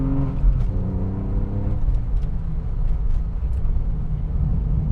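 A Porsche 996 911 Carrera driving on a narrow, curvy blacktop road: a steady engine drone and road rumble from inside the car, with a rising rev tone early on and no speech.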